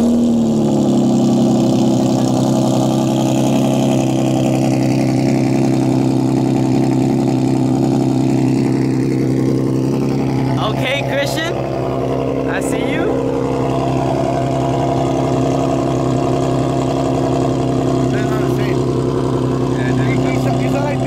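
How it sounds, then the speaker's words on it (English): A loud car engine idles roughly and continuously up close after a cold start, a deep steady rumble with a brief rev and some faint background noise partway through. "That car is hella loud when it comes to like a cold start."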